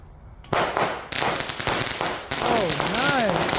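A 200 g Jewel Strike firework cake going off, with sharp, loud bursts at irregular intervals followed by rising whistles and crackling. People's voices are heard over the blasts.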